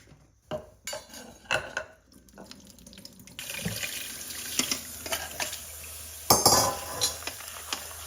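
Tap water runs into a kitchen sink as canned chickpeas are rinsed, a steady splashing stream with light metallic clinks of a can or strainer, close and alone without talk.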